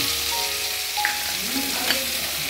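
Spices with black cumin seeds sizzle steadily in hot oil for a shing (stinging catfish) curry, a close, continuous frying hiss with faint stirring and no voices.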